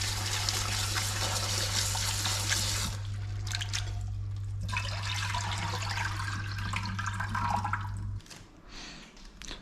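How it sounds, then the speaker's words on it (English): Freshly caught bass are rinsed under running water outdoors, a steady close gush that rushes for about eight seconds before it cuts off, leaving a quieter trickle and splashing. "Let's give them a quick rinse before we cook them."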